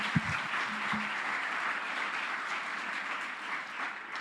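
Crowd applause for the NBA Africa Academy at a basketball coaching event, a steady wash of many hands clapping for several seconds, loud and sustained with no talk over it.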